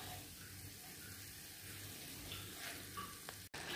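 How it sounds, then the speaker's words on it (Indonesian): A ground spice paste of turmeric, galangal, red and small chilies and shrimp paste frying in a pan, a quiet steady sizzle with a brief stirring clatter near the end. "Kita goreng dulu ya"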